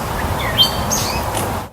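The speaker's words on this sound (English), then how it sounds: "The birds are chirping." Birds chirping outdoors among green trees on a nature walk, several short bright tweets and calls at moderate distance over a soft rustling background, with no talking.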